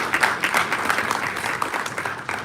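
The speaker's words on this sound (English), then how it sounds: "let's give them a clap." A business breakfast audience applauds steadily at moderate distance, a dense wash of many hands clapping with no voices over it.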